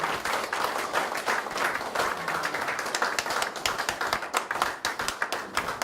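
Audience applause at an award ceremony for an anti-corruption certificate presentation in Daejeon, a dense steady crowd clapping sustained throughout at close range with sharp individual claps standing out.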